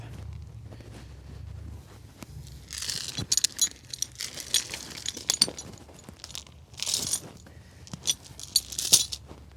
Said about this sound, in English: I'm gonna wrap a chain around the trunk of this bush to my hooks.